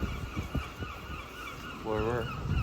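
Seagulls on Grafton Street let out a brief, nasal honking call over a steady hum of street noise, with scattered thumps and movement before it.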